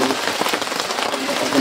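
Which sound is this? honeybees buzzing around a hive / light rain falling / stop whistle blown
light rain falling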